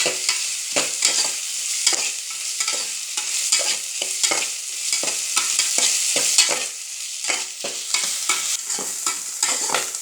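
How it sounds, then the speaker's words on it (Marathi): Chopped onions sauté in a pan, turned until they brown slightly, with steady sizzling and frequent close scraping stirs throughout and no talking. "ते टाकून चांगले परतावे. चांगले थोडेसे लाल होतं परतावे."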